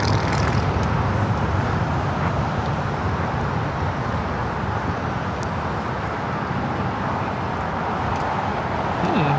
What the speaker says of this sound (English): That was a Qantas 767.